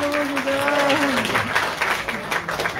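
Crowd clapping at a Bhagwat katha devotional gathering in Baraut, dense applause running the whole time, with a voice speaking over it at the start.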